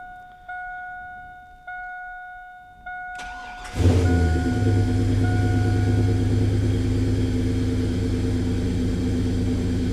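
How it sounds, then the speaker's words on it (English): Chevrolet S10 pickup with a larger air intake: a repeating door-open chime pings several times, then the engine cranks and catches, settling into a steady, slightly high, rumbling idle close by. "it does idle a little bit higher too, which I think that could just be the bigger intake"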